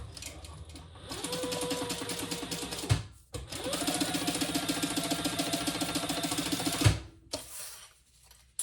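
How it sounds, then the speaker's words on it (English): A sewing machine chain-stitches the card slots of a leather-style wallet with steady whirring runs, a brief pause near the three-second mark, then a longer run before it stops. "I will do some chain stitching on these"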